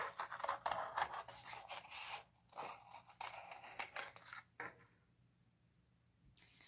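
Scissors snip through cardboard while cutting out a center hole, a run of close, quiet crunchy cuts and scrapes, pausing near the end before one last snip.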